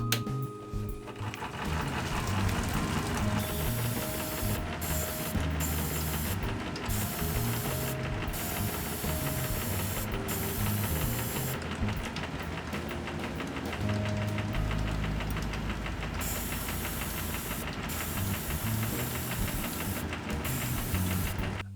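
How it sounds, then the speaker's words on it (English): A Sparmax airbrush sprays paint while its TC-620X compressor runs, giving a continuous hiss and mechanical chugging throughout with periodic short interruptions in the spray as the trigger is worked. "I feel like it's just spraying way too much paint out"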